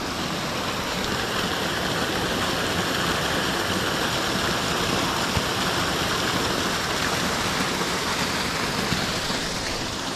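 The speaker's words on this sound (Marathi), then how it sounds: "तर मंडळी, या पाण्याचा आवाज ऐका तुम्ही," Stream water flowing steadily in a forest near Dandeli, a loud, continuous rushing wash that holds even and unbroken throughout, with no voices.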